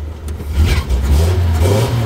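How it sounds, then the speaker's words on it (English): The engine of a 1969 Toyota Land Cruiser FJ40 truck runs with a deep, steady low rumble, revving slightly, loud and close. "It's a good sounding truck."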